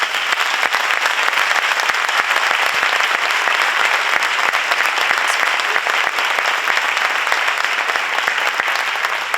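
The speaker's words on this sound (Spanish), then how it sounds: "recibamos con un fuerte aplauso a Boris Izaguirre" A large audience applauds to welcome Boris Izaguirre at a summer lecture course, producing a dense, even wash of clapping that stays loud and unbroken throughout.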